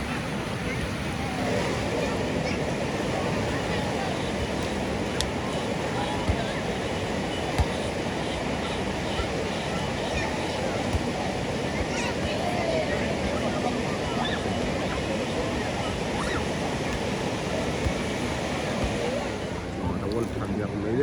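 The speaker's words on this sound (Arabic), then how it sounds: "البحر ديال الرميلات راه زوين، بحر راه صافي." Sea waves wash steadily onto Rmilat beach in Asilah, Morocco, a broad continuous surf roar mixed with wind buffeting the microphone. It holds at a fairly even level throughout, and faint voices may blend into the background.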